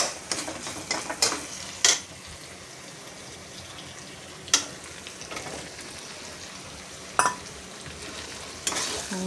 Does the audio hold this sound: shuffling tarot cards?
no